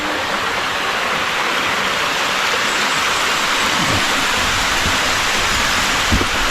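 Busilac Waterfalls pours in a loud, constant rushing roar of falling water that fills the whole scene, steady and unbroken, with no voices.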